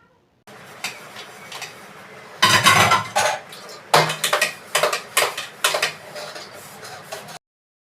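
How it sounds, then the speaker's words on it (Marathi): Dishes and pots clatter and clink repeatedly in a sink, with running water and scrubbing noises between sharp metallic knocks, close by and fairly loud. "इथे भांडे वगैरे घासून झालेले आहेत"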